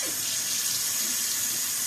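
Tap water running steadily into a sink while a shaving razor is rinsed, a close continuous hiss and splash with no talking.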